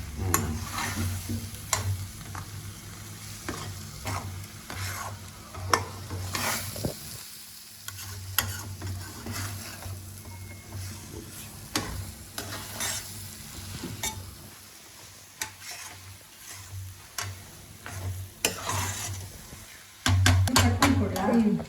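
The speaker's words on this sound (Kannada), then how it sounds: "ಸಿಮ್ಮಲ್ಲಿ ಇಟ್ಕೊಂಡು ತಿರ್ಗಿಸ್ಕೋಬೇಕು ನಾವು" Spring onion egg bhurji stirred in a pan over low heat, a steady soft sizzle with repeated scraping and occasional clinks of the spatula against the pan, close and continuous throughout.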